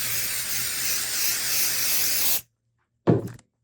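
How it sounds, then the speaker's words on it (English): A steady hissing spray from an aerosol can of 505 adhesive spray lasts a couple of seconds and stops abruptly, followed after a short pause by a brief clunk. "I'm going to use a can of 505 adhesive spray"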